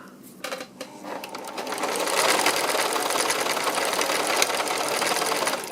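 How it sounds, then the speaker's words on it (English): Sewing machine stitching fabric scraps, a fast mechanical rattle that starts after a few handling clicks and runs steadily up close. "So I'm going to take that over to my sewing machine next and just do a little bit of stitching on it"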